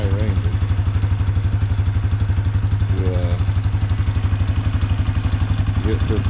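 A 1997 Yamaha Big Bear ATV engine with slightly tappy valves, idling up close with a steady rapid thumping beat and a light ticking clatter on top, plus a few brief whining sweeps.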